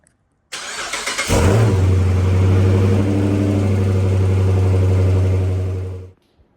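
A 2014 Dodge Charger fresh from an exhaust repair cranks over and catches, then settles into a loud, steady, deep engine rumble close by that holds for several seconds before cutting off.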